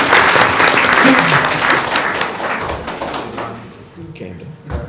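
Applause at a regular board meeting, a thick burst of clapping that gradually thins and fades, with scattered thumps and voices emerging as it dies away.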